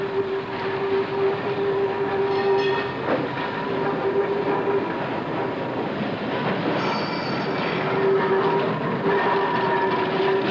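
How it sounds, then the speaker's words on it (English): An early 1900s electric tram runs along its rails, a steady rumbling rattle with a sustained metallic wheel squeal that fades in and out over the continuous rolling noise. "The electric tram replaced the tram drawn by horses after the turn of the century"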